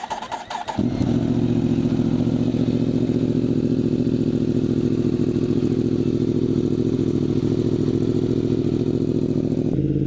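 A motorcycle cold-starts with a brief cranking clatter, catches, and settles into a loud, steady close-up idle that runs evenly for the rest of the stretch.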